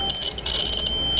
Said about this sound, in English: when I touch this, it's beeping